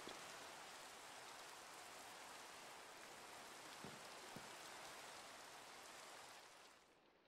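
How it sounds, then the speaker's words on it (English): Steady, even rain hiss falls in a modded Minecraft world, a continuous wash of droplets with a couple of faint clicks midway, fading out at the end with no talk. "Oh, now it's raining."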